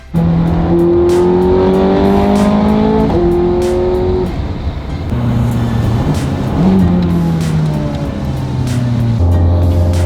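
A Ferrari engine revs hard through several gear changes, its loud tone climbing and dropping in stepped sweeps, with turbo whooshes and a nearby, close-up character.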